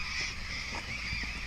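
Geese or similar waterfowl honking at a bird sanctuary at first light, with a steady chorus of calls and a few louder honks standing out, at moderate distance.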